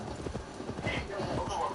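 A horse in the Assassin's Creed video game neighs amid rhythmic clip-clopping hooves, loud and close, with a voice talking over the galloping.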